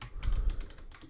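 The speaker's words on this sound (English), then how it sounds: "Type it out." Rapid keystrokes on a computer keyboard while building a webcam overlay in Adobe Photoshop 2022, a quick run of close, crisp clicks with no talk.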